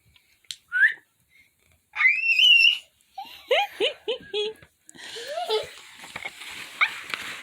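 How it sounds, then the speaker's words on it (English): Several people whistle in short, wavering bursts that rise and fall in pitch, some calls sliding like dog whines, spread unevenly across the stretch with brief pauses and a faint noisy bed near the end. "That's them trying to copy my whistle."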